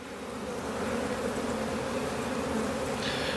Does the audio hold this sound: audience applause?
no